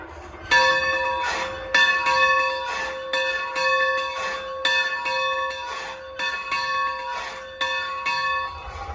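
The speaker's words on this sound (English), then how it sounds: "we get to ring the bell on this" A historic locomotive bell is rung by pulling a rope, giving loud, clear metallic clangs at a steady rhythm, each strike ringing on with a sustained tone for about nine seconds.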